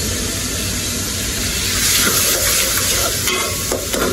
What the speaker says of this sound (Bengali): মাছগুলো কিন্তু আজকে কড়া ভাজছি, কড়া কড়া ভাজ।